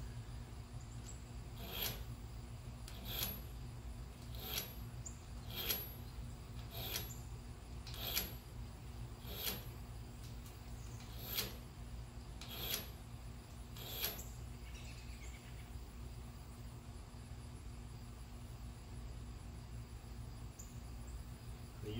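Knife blade drawn through a RADA knife and broadhead sharpener, making about nine evenly spaced rasping strokes that stop partway through, close and fairly quiet over a steady low background hum.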